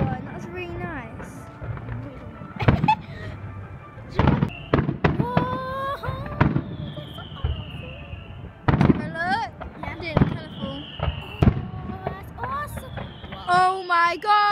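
Fireworks burst in sharp, scattered bangs and crackles, some with whistling rises, while people cheer and talk excitedly between the explosions.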